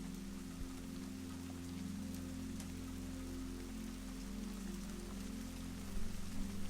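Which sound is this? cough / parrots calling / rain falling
rain falling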